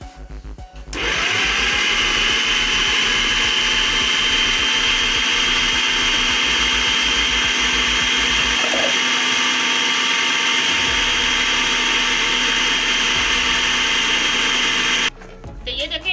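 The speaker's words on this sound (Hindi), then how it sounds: "अब मैं चॉपर को बंद करूंगी और इसे अच्छी तरह फिर चॉप कर लूंगी।" An electric food chopper mincing raw chicken with fresh coriander whirs up to a loud, steady motor drone that runs for about fourteen seconds and then cuts off abruptly.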